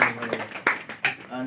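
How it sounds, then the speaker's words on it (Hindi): Audience applause at a company event, a short burst of clapping with a few loud claps standing out above the crowd noise, with talk mixed in. "एक बार जोरदार तालियां।"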